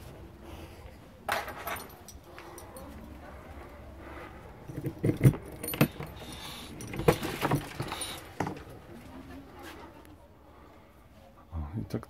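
Keys jingle and clink in short bursts at close range outside a caravan, with quiet rustling between and brief pauses of near silence.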